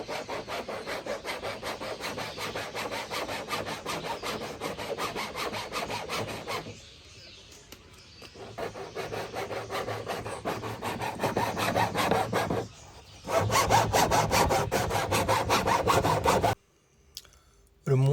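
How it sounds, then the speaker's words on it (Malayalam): A hacksaw blade cuts a plastic drum in two with fast, steady back-and-forth rasping strokes, close and continuous, with a couple of short pauses and a sudden stop near the end. "അളവെടുത്തിട്ട് ആക്സോ ബ്ലേഡ് വെച്ച് രണ്ടായിട്ട് മുറിക്കണം"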